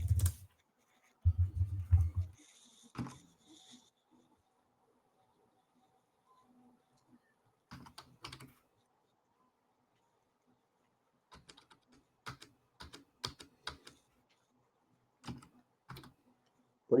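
Someone types on a computer keyboard in short clattering bursts, with a few isolated keystrokes and long quiet gaps between them, close and fairly soft.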